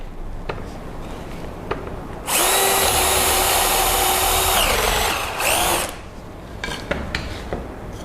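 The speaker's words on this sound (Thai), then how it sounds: "ถ้าเกิดว่าผมต้องการเจาะรูนะครับ ผมก็มาวางแบบนี้" A power drill bores a hole through a piece of wood backed by a scrap board, a loud high whine lasting about three and a half seconds, with light handling clicks before and after.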